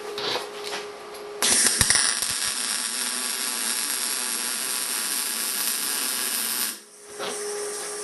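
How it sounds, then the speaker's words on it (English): A MIG welder lays a bead straight onto rusty steel plate about 3 mm thick, giving a loud, steady crackling hiss that holds for around five seconds, then stops abruptly before a quieter hum returns. "I'll run a bead of weld along the way, straight on top of the rust"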